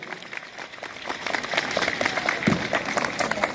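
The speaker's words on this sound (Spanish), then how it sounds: "¡Fuertísimos los aplausos!" Loud, sustained clapping from a school crowd at an anniversary celebration in Arequipa, dense and building slightly toward the end, close and energetic, with a few shouts mixed in.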